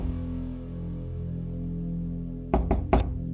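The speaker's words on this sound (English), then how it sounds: "there was a soft knock at the door." Three soft knocks on a door, quick and fairly close, arrive near the end over a steady low ambient hum.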